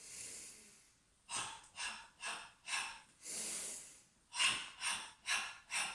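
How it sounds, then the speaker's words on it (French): Deep breathing in a meditative walking exercise: after a long exhale, a series of sharp nasal inhales and breathy exhales follow in a quick, regular rhythm, close to the microphone, with no talk. "Vous inspirez en levant les bras et vous expirez"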